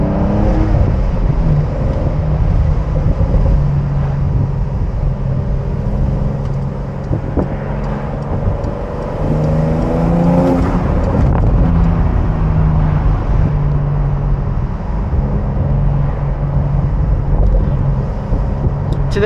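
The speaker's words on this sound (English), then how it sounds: "The way these turbos spool up just sounds so crazy." A Porsche 911 992 4S turbocharged flat-six engine running steadily with rising whirring tones as it revs and the turbos spool, loud and close throughout.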